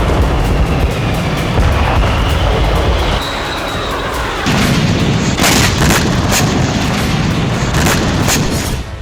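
Explosions from cluster bombs in war footage of the Russia–Ukraine conflict, a dense rumbling roar with a burst of sharp, cracking blasts and crackling pops in the second half, loud and continuous with no talking.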